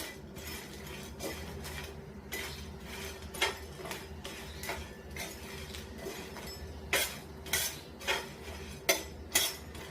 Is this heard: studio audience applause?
no